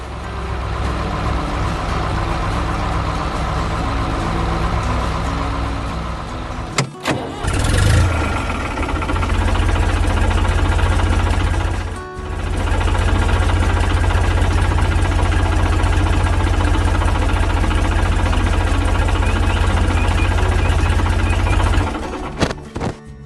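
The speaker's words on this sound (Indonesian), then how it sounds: "tiba-tiba terdengar suara mesin yang menari-nari" A tractor engine runs steadily and loud with a heavy low rumble, briefly cut off twice by short gaps, with no talking over it.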